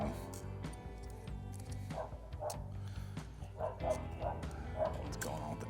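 Dogs barking and yipping in the background, several short bursts spread through the clip while someone cuts 16 gauge galvanized wire with a Leatherman tool; a steady low hum runs underneath.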